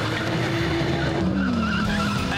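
A car launches hard with launch control, its engine roaring loudly with a rising then settling note over rough road and tire noise.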